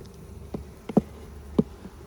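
Honeybees in a small colony split, drawing new comb across the frames of a hive box in July, give a few short, faint buzzy bursts at close range over a quiet low background.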